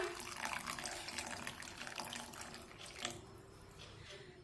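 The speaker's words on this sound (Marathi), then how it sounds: "यामध्ये थोडंसं गरम पाणी टाकूया" Hot water pours steadily into a pan of pav bhaji, a continuous splashing gush with a slight bubbling texture, fairly close.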